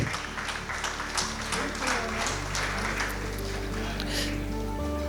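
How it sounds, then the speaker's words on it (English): Convention audience at a Lions International district gathering applauds, a busy spread of claps under a loud, low steady hum and background music tones, with some voices mixed in. "Can we have a round of applause?"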